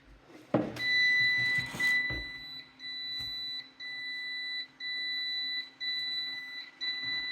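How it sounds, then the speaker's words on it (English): Egg incubator sounding an under-temperature warning alarm: a steady, high electronic beep that pulses on and off in roughly one-second bursts, loud and close, with a brief clatter at the start. "it's under temperature alarm, just as a warning."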